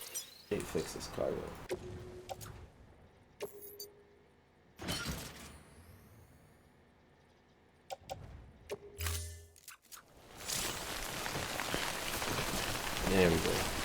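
Steady rain hiss in the video game Death Stranding, rising to a dense, loud downpour in the final seconds, with quieter gaps and scattered thumps and clatter earlier on.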